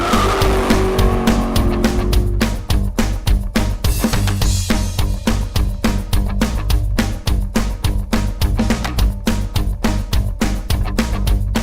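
Car drifting hard with tires squealing, a loud sustained screech broken into rapid rhythmic chirps and bursts as the tires slip, close and dominant with engine noise underneath.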